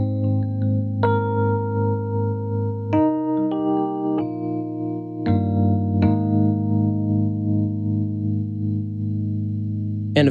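A piano patch from Worship Essentials Plus for Ableton, run through a chorus effect, plays sustained chords and single notes. Each new note rings out with a shimmering, doubled quality over a held low drone, and nobody speaks.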